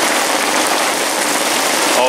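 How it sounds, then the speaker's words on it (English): Rain pours steadily at a carp fishery, a dense even hiss of drops on the surface with no gaps, close and fairly loud across the short stretch. "if this rain stops"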